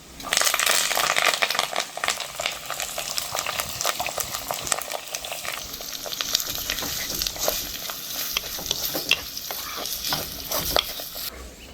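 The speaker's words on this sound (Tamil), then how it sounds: "அதுக்கப்புறமா அந்த வெங்காயம் பச்சை மிளகா கருவேப்பிலையே உள்ளே போட்டுருவோம்" Onion, green chillies and curry leaves sizzle with garlic in hot oil, a steady loud crackling fry with the scrape of stirring throughout and no talking.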